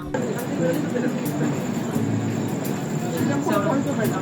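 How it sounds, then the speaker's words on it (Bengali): Interior of the 13009 Doon Express standing at Serampore station on the Howrah to Rishikesh run, a steady close hum of the halted train with a faint high electrical whine, while a voice talks throughout. "আমরা এখন পৌঁছে গেলাম শ্রীরামপুরে আর আমাদের ট্রেন এখন দাঁড়িয়েছে এখানে।"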